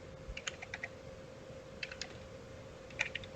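Keystrokes on a computer keyboard while writing Python code for a simple calculator: quick bursts of light clicks in small clusters with pauses between, close and fairly quiet over a steady low hum.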